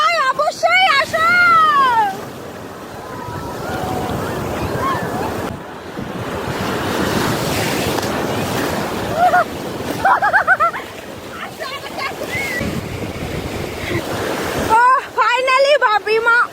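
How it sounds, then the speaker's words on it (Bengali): Big sea waves roll and crash at Puri beach, a loud continuous surf roar with wind buffeting the microphone and splashing, while people shout and talk excitedly over it. "প্রচুর বড় বড় ঢেউ"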